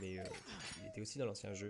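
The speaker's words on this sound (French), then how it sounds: "Regardez ce pauvre chien." An injured wolf in the Resident Evil 4 Remake video game gives soft, high whimpers and yips under someone talking over it in French.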